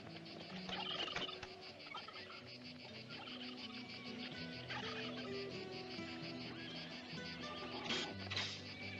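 A flock of turkeys gobbling, repeated overlapping warbling calls in quick bursts that carry steadily at moderate distance, with insect chirring underneath and no voices.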